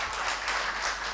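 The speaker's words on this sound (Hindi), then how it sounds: "बस ताली बजाएगा सब लोग एक बार" Applause from a mushaira audience at a poetry gathering in Bareilly, a brief burst of many hands clapping together, dense and steady throughout.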